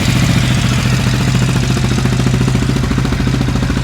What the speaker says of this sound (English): Idle's a little high, I think, but maybe that's just the way it idles.